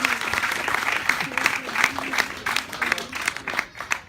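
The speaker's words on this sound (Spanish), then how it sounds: "Dele un aplauso a Jesús, hermano." Church congregation applauding during a sermon, a close, lively burst of many hands clapping in a thick, uneven rhythm, with voices murmuring and calling out beneath it.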